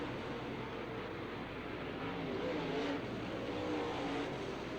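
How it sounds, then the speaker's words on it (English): Late model race cars roar around an oval raceway in an October 2003 A-main, a dense continuous engine drone from a distance with no distinct pass-by and no voices heard. "Dick Barton and Robbie Blair side by side for second down the back straightaway"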